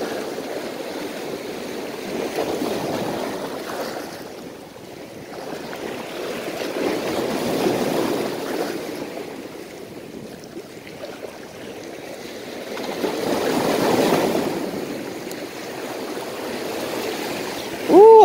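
Strong ocean waves on a beach on a windy morning, surging in slow, rolling swells that build and recede, with a steady wash of surf and wind noise throughout.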